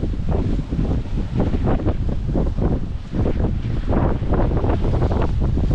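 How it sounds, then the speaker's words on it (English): Strong, steady wind roars and buffets the microphone aboard a sailboat on Lake Superior, a loud continuous rush with gusty surges and possible wave wash underneath. "But the wind is dying down a little bit."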